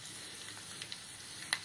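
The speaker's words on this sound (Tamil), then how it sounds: "பாருங்கள், நல்லா பொரியுது." Mustard seeds and urad dal fry in groundnut oil for tempering, giving a quiet, steady sizzle with a few small pops and crackles close by.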